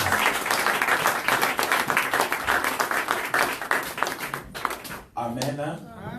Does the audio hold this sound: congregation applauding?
yes